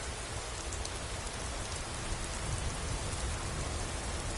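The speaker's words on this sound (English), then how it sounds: "it just started raining that quick" Steady rain falling outdoors, a constant even hiss of drops across the whole stretch, moderately near with no voices.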